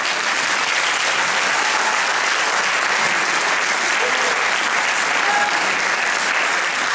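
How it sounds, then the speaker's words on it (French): A large audience at the Italofolies 2022 show claps loudly and continuously, a dense, even wall of applause that holds steady for the full seven seconds. "Applaudissez encore une fois Tony"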